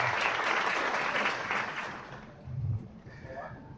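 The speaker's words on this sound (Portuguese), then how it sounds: "Agora eu vou pedir uma salva de palmas para esses primeiros voluntários" An audience at a leadership training course applauds the first volunteers, a loud burst of sustained clapping that thins out and fades after about two seconds, followed by a brief voice.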